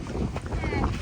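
Strong wind gusts buffet a festival campsite beside a camper van with its awning being taken down, roaring steadily and close against the microphone, with faint voices underneath.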